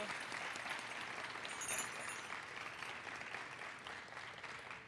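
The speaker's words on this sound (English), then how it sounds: "Can we get a round of applause for all our participating students today?" Applause from a crowd at a college holiday event for participating high school students, a soft, continuous patter of clapping heard from a distance that tapers slightly as it goes on.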